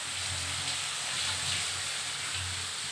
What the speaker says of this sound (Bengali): এবার আমি এর মধ্যে অল্প পরিমাণে একটু জল দেব